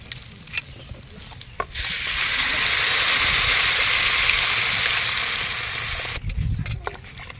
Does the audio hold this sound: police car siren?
no